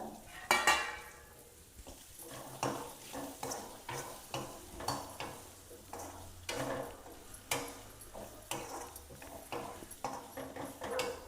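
Coconut pieces with a pinch of turmeric heat in a little oil, giving a soft sizzle broken by repeated clinks and scrapes of stirring, fairly quiet and close, with no voices.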